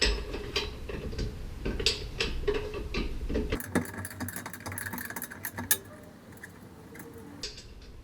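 A 19 mm wrench works a rear brake caliper bolt loose on a 2005 Infiniti FX35 during a wheel bearing job. Close, scattered metallic ticks and clicks come first, then a duller run of small scrapes and taps.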